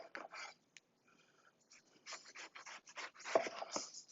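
A knife slicing eggplant into half-inch slices on a board, several crisp close cuts in quick succession after a brief lull.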